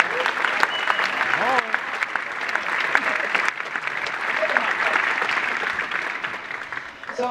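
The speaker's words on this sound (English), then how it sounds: "let's have a round of applause for this man" Audience applause at a 2016 pre-show for a Big Trouble in Little China screening in Hollywood, a dense, sustained crowd clapping with scattered cheers and voices underneath.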